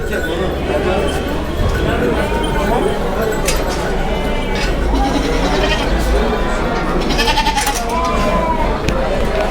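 Goats bleat repeatedly at a busy livestock market selling sacrificial animals, their calls rising over a constant crowd hum, clinks and hoof sounds, with people talking nearby throughout.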